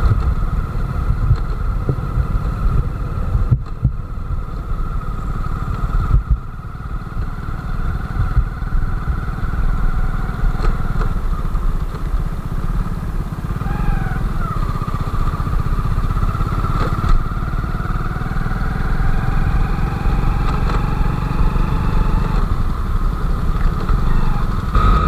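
A second-hand Hero Splendor motorcycle engine running with heavy vibration, a steady, close, rattling idle with a rough low throb and a few brief dips, lasting throughout.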